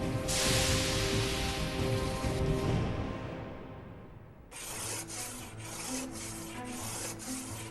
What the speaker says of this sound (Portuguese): ela é limada para se remover a camada externa de carbono deixada pela fornalha a carvão